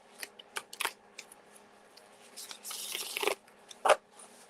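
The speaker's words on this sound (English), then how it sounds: "These shuffle like a dream." Crisp riffling and snapping of a tarot card deck being shuffled by hand, in quick bursts with short pauses and one louder flurry near the end, close up with no talking.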